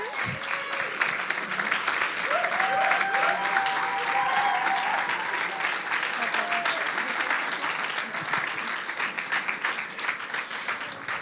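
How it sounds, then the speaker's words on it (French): Church congregation applauding its two pastors at a five-year service celebration, steady sustained clapping throughout with a voice speaking over it briefly. "oui, applaudissez-les, restez là"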